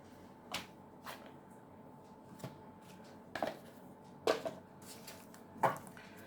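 Tarot card decks are shuffled and handled, giving soft riffling rustles with several crisp snapping flicks spread across a quiet room.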